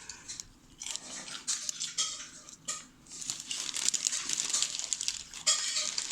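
Paper is trimmed on a handmade paper squishy, with irregular snips and crinkling rustles in quick, uneven bursts close by, without talking.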